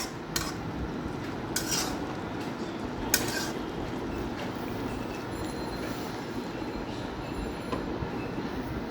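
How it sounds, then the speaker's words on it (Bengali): A utensil stirs dried chepa shutki fish cooking in a pot, producing a steady rough scraping and rumbling with a few sharp metallic clinks, close and continuous. "এখন আমি এটা নাড়াচাড়া করব।"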